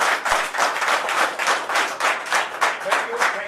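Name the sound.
audience applause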